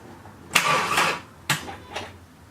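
A rebuilt Mk4 Volkswagen Golf engine with a dead battery tries to crank, giving three brief, weak bursts of starter and engine noise at close range, each fading quickly.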